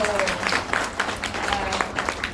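An audience at a film event claps in a brief burst of applause, close and fairly loud, with a voice speaking over it.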